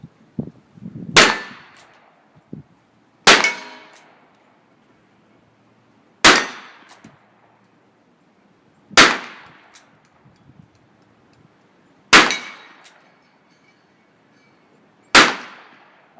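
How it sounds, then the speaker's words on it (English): An Armscor Rock Island Armory M200 six-shot revolver fires six loud, sharp shots outdoors at steel plates, spaced a few seconds apart, each crack followed by a short ringing decay. "Just going to run a couple rounds through it. It's your typical 6-shot revolver. We got some different steel plates."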